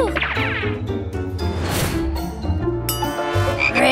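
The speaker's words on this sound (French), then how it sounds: "Hé, hey, une grenouille." A cartoon frog croaks loudly and repeatedly in close, throaty bursts, heard alone without talk.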